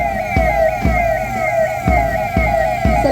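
A loud, steady electronic siren wails as a 112 emergency response vehicle passes the saluting stage during a Republic Day parade in Sonbhadra, its tone gliding repeatedly, with regular low thumps beneath it.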